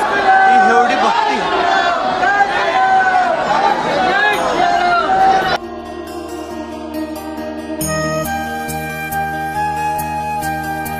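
A large crowd of devotees chatters and murmurs at the Shri Ram temple in Ayodhya, a loud close hubbub for the first half before giving way to music.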